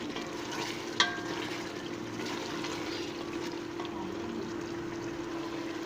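Onions frying and being stirred into a beef qurma in a pot, a steady sizzle running throughout with one sharp scrape or clink early on, moderately close and with no talking.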